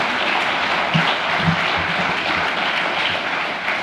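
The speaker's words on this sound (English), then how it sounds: "Under your applause." Audience applause at an environmental symposium on superyachts, a dense steady wash of clapping filling the room from start to finish with no talk over it.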